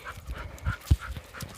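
Roxie the dog pants heavily during her walk, a quick rhythmic series of close breaths with a few louder huffs, no talking.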